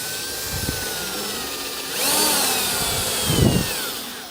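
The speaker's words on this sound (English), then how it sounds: "drill our hole in the frame" A power drill whines steadily at high pitch drilling into the metal frame of a Polaris RZR side-by-side, its tone shifting as it bites in, with a louder grinding burst near the end.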